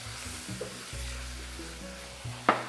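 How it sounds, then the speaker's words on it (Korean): Flour being stirred into mushrooms frying in a little oil over very low heat to make a roux, with a soft steady sizzle, scraping stir strokes and a sharp utensil knock near the end. "버섯이 반 정도 투명해졌을 때 밀가루를 넣고 섞어서 일종의 룰을 만들어 주겠습니다."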